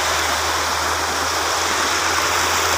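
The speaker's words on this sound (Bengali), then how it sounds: "কি সুন্দর জায়গা পানির স্রোত।" A river stream flowing at a rubber dam near a bridge in Dinajpur, a loud, constant rushing of water filling the moment with no voices.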